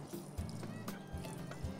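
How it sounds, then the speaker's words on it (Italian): Cold room-temperature water poured into a pot of basmati rice, a short splashing, gurgling pour with faint clinks, close and fairly quiet. "Andiamo ad aggiungere dell'acqua fredda a temperatura ambiente che vada a ricoprire il riso per appena due dita"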